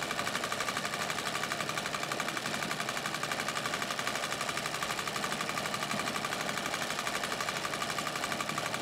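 A White Rotary treadle sewing machine doing free-motion quilting, running steadily at speed with a dense, even needle chatter and mechanical whir, continuous and close.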